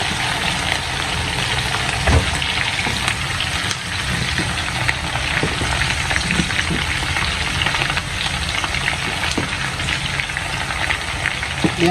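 Onions sizzle steadily in a hot oily pan for ofada sauce, a dense, continuous frying hiss with faint crackles and stirring knocks, close and fairly loud throughout, no voices.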